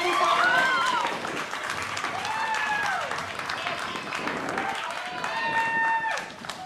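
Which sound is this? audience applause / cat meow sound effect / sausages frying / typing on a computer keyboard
audience applause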